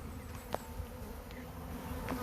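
A steady, low buzzing hum from honey bees being installed into a new hive, fairly faint and continuous with no talking.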